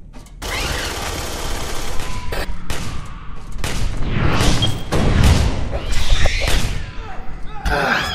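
Gunfire in multiplayer Aliens: Colonial Marines, a loud, close flurry of rapid shots with thumps and bursts rising and falling over several seconds, while someone talks through it.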